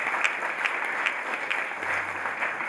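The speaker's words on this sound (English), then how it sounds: "let's give him another really big round of applause for Jack this evening" An audience at an evening dinner applauds for several seconds, a dense, even patter of many hands clapping at once.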